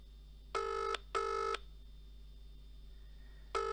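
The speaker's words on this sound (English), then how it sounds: "I'm going to try and call him back now." A phone call placed back rings out: two long electronic ringback tones in quick succession, then a pause before a third begins, clean and steady over a faint low hum.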